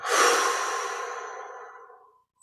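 A single long, close exhale during guided meditation, a breathy rush of air that starts strong and slowly fades out over about two seconds, alone.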